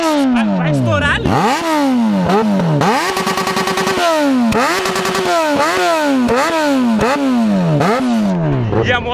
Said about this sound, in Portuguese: E a moto tá pipocando fogo dentro da melancia